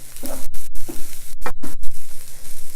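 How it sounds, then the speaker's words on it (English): Kale sautéed with garlic in a pan sizzles steadily while a utensil stirs and scrapes through the greens in short, repeated strokes, close and fairly loud. "Now I don't cook the kale too much, just saute it a little bit."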